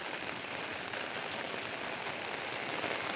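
Steady heavy rain falls during a flood in Anantapur, a dense, even hiss of drops on surfaces that holds constant and loud throughout, with no voices.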